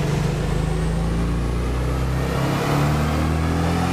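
A Renault Megane 3 RS with an overboosted turbo engine runs hard and steady during a dyno power run, a loud, droning engine note that rises slightly toward the end, heard up close with no talking.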